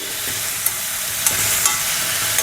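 Soaked chana dal and ridge gourd sizzle in a frying pan while a spoon stirs them, a steady hiss punctuated by a few soft scraping knocks.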